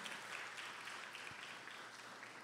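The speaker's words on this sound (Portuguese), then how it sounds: "Vamos receber esses irmãos com uma salva de palmas?" Church congregation applauding to welcome new members who arrived in 2024, a steady wash of many hands clapping at a moderate distance, filling the whole moment without voices.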